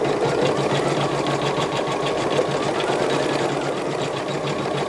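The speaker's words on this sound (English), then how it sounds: "You can just hit start." A Janome S9 embroidery sewing machine stitches a design, a loud, fast, even mechanical whirring and rapid needle clatter running steadily without pause.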